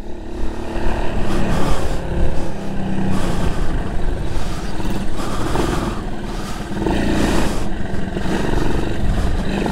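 Suzuki GAG motorcycle engine revving and pulling as the rider shifts up through the gears into third, a loud continuous buzzing drone that rises and falls in pitch, heard close and alone.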